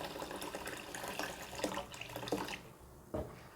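Water is poured over soaked pearl millet (kambu) in a container before grinding for adai, a steady close splashing and trickling with a few brief louder sloshes near the end.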